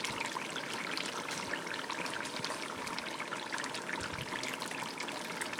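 A pot of agushi (egusi) stew bubbles and simmers steadily at close range, a dense continuous gurgling hiss with no pauses.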